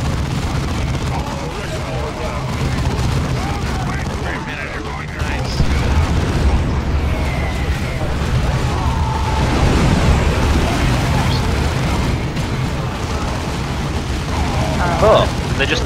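Heavy, continuous rumbling booms and blasts from a building being destroyed by explosions in the Dawn of War strategy game (Ultimate Exterminatus mod), sustained and loud throughout with a broad low roar.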